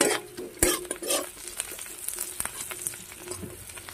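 Fish and onions fry with turmeric in a pan, a soft sizzle broken by sharp clinks and scrapes of a spoon stirring against the metal, close and fairly quiet.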